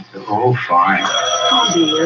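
A telephone rings in a radio drama, a steady ringing tone under two people talking close by.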